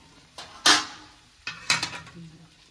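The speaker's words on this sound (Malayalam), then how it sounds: "ഇനി നമുക്കൊന്ന് ഇളക്കി നോക്കാം" A spoon scraping and clinking against a pan while stirring Kerala-style chicken chukka, a few short, sharp metallic scrapes in two clusters, close and fairly quiet.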